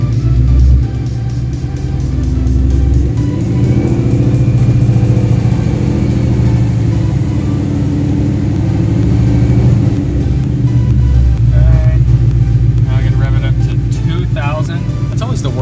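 Whipple-supercharged car engine on its first start, revved and held around 1500 RPM, a loud steady mid-pitched drone that swells slightly and stays continuous for the whole stretch, with people talking over it.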